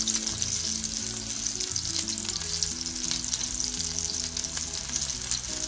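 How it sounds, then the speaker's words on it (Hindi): Homemade chicken chapli kababs fry over medium heat in oil, giving a steady, close sizzle that runs without pause beneath background music, with no talking. "साइड चेंज करने के बाद तकरीबन 10 मिनट तक मीडियम आंच पे फ्राई करेंगे"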